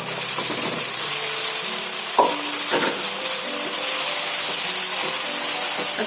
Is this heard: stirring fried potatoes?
yes